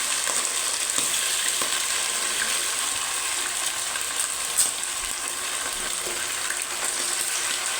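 Masala-marinated chicken pieces frying in hot coconut oil, a steady bright sizzle and crackle with occasional louder pops, close and continuous with no talking.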